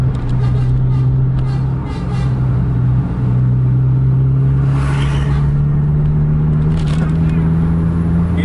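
Two Scania K410 buses racing each other along a road at night, with a loud steady engine drone and rising revs heard up close, along with road rumble and faint voices.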